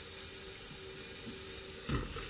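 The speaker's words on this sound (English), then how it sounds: "We'll start our recipe by browning our onions and our mushrooms" Onions and mushrooms sizzle and fry steadily in butter in a pan, a soft continuous crackle with a brief louder burst near the end, no voices.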